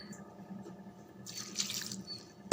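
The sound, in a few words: water being poured into a cooking pot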